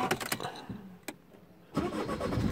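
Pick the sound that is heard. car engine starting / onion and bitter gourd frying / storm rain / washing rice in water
car engine starting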